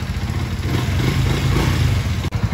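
A 1997 Jialing motorcycle, all original, runs steadily after a kick start, its loud, close idle rumbling and clattering evenly with a brief dropout near the end.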